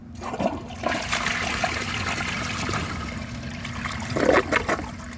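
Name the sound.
2001 Vortens Vienna toilet flushing with a dry bowl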